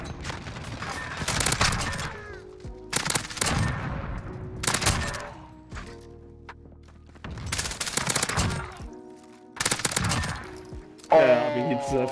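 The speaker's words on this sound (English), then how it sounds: "I'm getting shot at from like a million directions." Bursts of rapid video game gunfire come in several separate volleys with short pauses between them, loud and close, with a low hum and brief electronic tones in the gaps.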